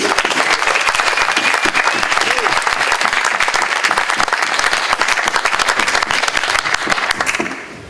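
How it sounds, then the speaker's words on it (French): A large audience at a rap documentary presentation breaks into loud, sustained applause, dense continuous clapping that holds steady for several seconds before fading at the end. "Merci Forbon, applaudissez-le."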